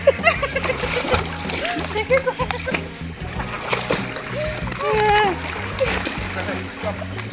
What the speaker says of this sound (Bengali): দেখেছো কি সুন্দর সাঁতার কাটে আমাদের ছোট্ট রাজা